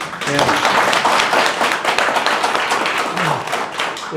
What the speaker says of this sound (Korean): 여러분들 따뜻한 격려의 박수도 보내주시고